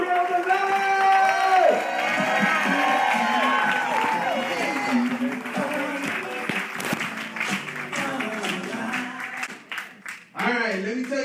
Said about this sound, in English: Start clapping right now, start clapping right now.